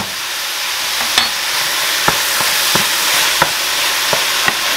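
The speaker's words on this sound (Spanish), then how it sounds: "A los sartenes no les pasa nada con la cuchara, no se rayan ni nada, lo único que les hace ruido." A spoon scrapes and stirs ground beef frying in a pan, with steady sizzling throughout and several sharp metallic clicks of the spoon against the pan.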